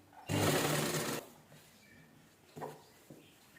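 A sewing machine stitches a straight seam on a five-panel blouse in one loud, close burst of about a second, followed by quiet handling noises.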